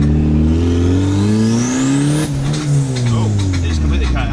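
A turbocharged Honda Civic engine revs hard and loud under acceleration, its pitch climbing steadily, then dips abruptly as it hits boost cut before pulling again, with a voice talking over it.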